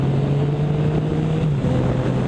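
Yamaha FZ-09 motorcycle cruising along a coastal road, a steady low engine drone with heavy wind rush, holding an even pitch that dips slightly near the end; no voices.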